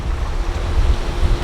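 Ocean surf at a beach resort in Playa del Carmen, heard as a steady low wash of waves with some wind rumble, continuous and moderately loud with no voices.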